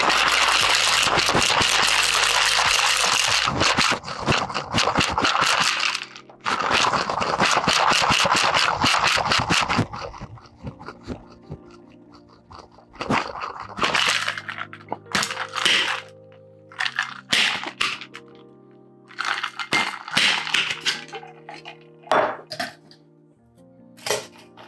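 Ice rattles hard inside a cocktail shaker mixing rum and eggnog, in two long loud vigorous bursts of shaking followed by scattered lighter clinks and knocks as it settles.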